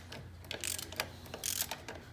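A ratchet loosening bolts to remove the front shock of a 2015 BMW R 1200 GS motorcycle, heard as a few short, quiet bursts of rapid clicking close by.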